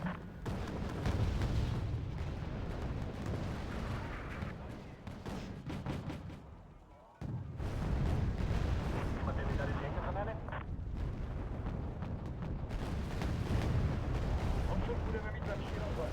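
Repeated booming launches and blasts from Malyutka anti-tank missiles in a tank video game, rolling continuously with a brief drop near the middle, heard at moderate level with voices talking over the action.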